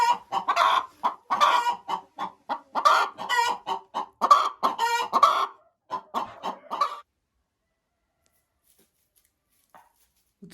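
A hen on a farm clucks in a close, lively string of calls for about seven seconds, then goes quiet with only faint sounds after.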